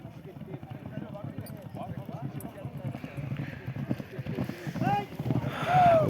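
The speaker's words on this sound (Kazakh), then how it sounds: "Бес айлауға кеткен аттар екінші айлауды айналып келатыр" Racing horses gallop round the course at a village celebration, with a quick, rhythmic clatter of hooves that grows nearer and louder, under a commentator's steady talk and the noise of the crowd.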